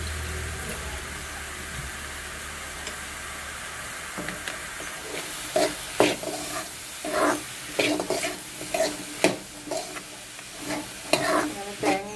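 Tomato and onion fry in a hot pan with a steady sizzle, while a utensil stirs and scrapes in repeated bursts through the second half, close and fairly loud.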